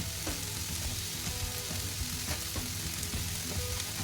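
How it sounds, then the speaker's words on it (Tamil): Chicken and onions sautéing together in a pan, a dense continuous crackling sizzle with faint stirring taps, close and fairly quiet, no voices. "வெங்காயம் இதோட கூட மிக்ஸ் ஆகுற அளவுக்கு நம்ம கொஞ்சம் ஃப்ரை பண்ணலாம், வதக்கலாம்."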